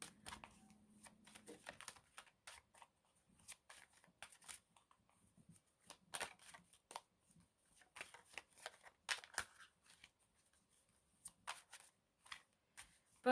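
Tarot cards are shuffled and handled close by, giving soft riffling and quick papery flicks in irregular bursts separated by near-silent pauses, with a brief low hum at the start.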